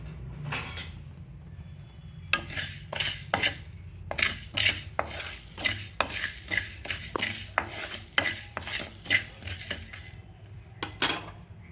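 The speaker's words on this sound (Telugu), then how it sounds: "డ్రై రోస్ట్ చేస్తున్నాను." Coriander seeds and cumin dry-roasted in a pan without oil, with a metal spatula repeatedly scraping and clinking against the pan in an uneven rhythm, close and fairly loud over a low background hum.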